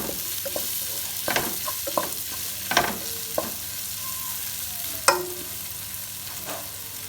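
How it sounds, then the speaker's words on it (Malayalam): Kothu parotta with beef curry and beef masala being stirred in a pan, with a low sizzle under repeated scraping and clanking strokes of the spoon against the metal, several sharp knocks standing out, close by. "പിന്നെ ഇച്ചിരി ബീഫ് മസാലയാണത്, ശകലം ചേർത്ത് പോകാം. ഞാൻ ഇളക്കാം."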